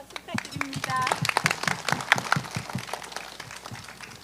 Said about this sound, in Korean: 관장님께 여러분 박수 부탁드립니다.